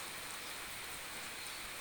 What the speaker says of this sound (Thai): ฝนตก ตลอดนะบผมทั้งวันมันไม่ตกหนักนะครับผม